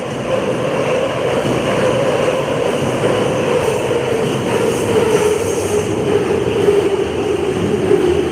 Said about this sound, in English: Well, we got trains going in all directions.